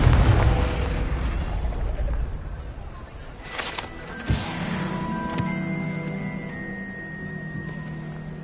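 A Confringo fire-blast spell goes off in Hogwarts Legacy, a sharp burst with a booming rumble that fades into a lingering magical shimmer and ringing tones.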